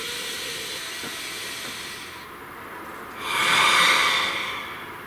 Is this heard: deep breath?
yes